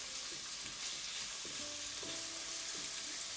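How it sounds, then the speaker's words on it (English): Chicken sizzles in a little oil in a frying pan, giving a steady, close hiss with faint stirring clatter and occasional higher sputters, with no voices. "all I did was add a little bit of oil to the frying pan so the chicken doesn't stick."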